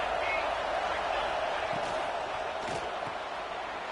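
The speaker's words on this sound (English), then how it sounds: "This crowd bringing the energy and noise early." A football stadium crowd at a Buckeyes game roars in a dense, continuous wash of cheering noise, loud and steady throughout.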